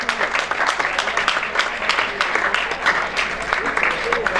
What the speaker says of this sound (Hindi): जोरदार तालियां मोहम्मद उवैस के लिए